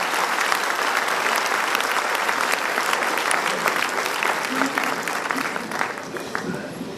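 A hall audience at a state lawyers' conference in Solapur bursts into sustained, loud applause welcoming honoured guests, dense clapping holding steady for several seconds with faint voices mixed in.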